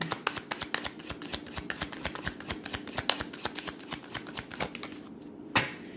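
A deck of cards is shuffled for a card reading, a quick rhythmic run of riffling flicks close by that ends in a sharper slap near the end; no voices.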